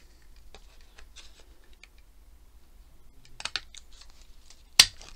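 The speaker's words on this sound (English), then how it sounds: "I am not the straightest at cutting with scissors." Scissors snip paper for a handmade journal pocket in a series of quick, soft cuts that fall silent for a moment, then resume, ending in one sharp, louder snip.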